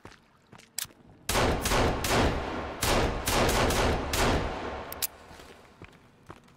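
Gunfire in the Sons of the Forest survival game: a few isolated shots, then a loud sustained run of close blasts for about four seconds, ending in scattered single shots.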